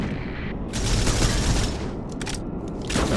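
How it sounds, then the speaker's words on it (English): Dense, roaring volleys of heavy gunfire fill a zero gravity tactical shooter game, a continuous loud wash of shots with a few sharper bursts near the end. "Taking heavy fire. Enemy fire incoming."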